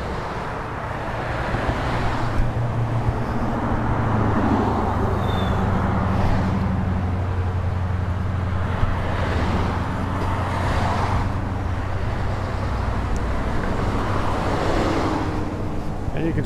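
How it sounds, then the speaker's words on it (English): Street traffic at the road where Tiger Woods crashed streams past nearby, a constant roadway rumble with cars and heavier vehicles swelling and fading as they go by one after another. "I'm gonna wait for a break in the traffic to look at some other stuff in the street."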